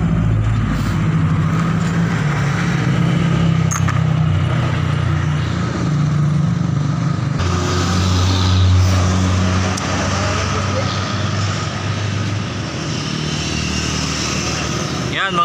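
A Kawasaki Rouser 200NS motorcycle with a worn drive chain and a pointed engine sprocket idles and runs nearby, a steady engine rumble with faint clattering, while someone talks over it throughout.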